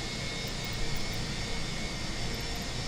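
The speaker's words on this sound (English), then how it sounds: "We have a good engine start." An IAE-engined Fenix A320 jet engine in a flight simulator cockpit, running up to a steady roar with a high whine layered on top. The sound is continuous and fairly loud, with no voices.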